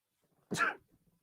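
A single short, sharp sneeze close by, with quiet surroundings.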